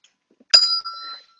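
A single diatonic bell is struck once, its bright ringing tone hanging briefly and fading, clear and close in near silence.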